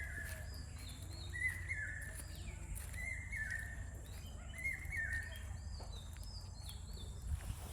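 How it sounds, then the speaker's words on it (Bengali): A village bird sings in repeated short chirping phrases, moderately distant and fairly clear, over a low steady rumble of background ambience with no talking. "এই যে কি সুন্দর পাখিটাকে শোনেন"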